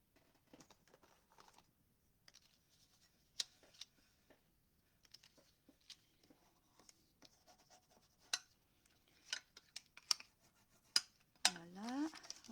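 Paper being folded and its creases pressed down by hand during a paper craft decoration, giving scattered soft scrapes and sharp rustling swipes at an irregular pace, close up, with a brief voice now and then.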